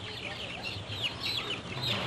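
Young meat chickens cluck and chirp in a busy flock as they race around, a steady mix of short calls close by with a voice speaking over them.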